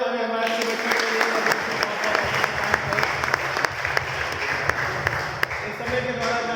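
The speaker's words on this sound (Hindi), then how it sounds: "जोरदार तालियां हमारे हमारे बच्चों के लिए।" Loud audience applause for children at a Sunday youth church service in Mumbai, dense steady clapping throughout with a voice speaking over it.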